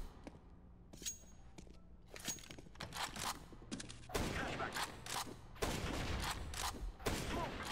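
Rapid gunfire rattles in CS:GO as shots are sprayed through a wall, a dense fusillade of sharp cracks that grows louder toward the end over faint in-game footsteps and movement.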